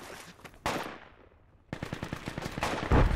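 Gunfire in the military shooter game Project Reality: one sharp shot, a quiet gap, then rapid automatic bursts of many cracks in quick succession that grow louder toward the end.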